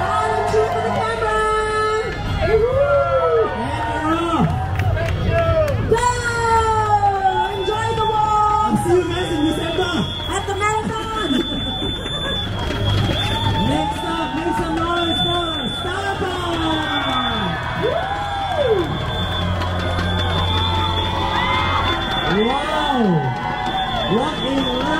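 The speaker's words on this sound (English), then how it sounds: "Smile and cheer for the camera!" A large parade crowd at a community event in Singapore cheers and whoops continuously over a dense, lively hubbub, with shouts and a steady babble of voices filling the scene.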